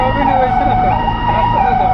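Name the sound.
ICU ambulance siren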